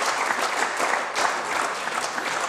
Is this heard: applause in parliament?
yes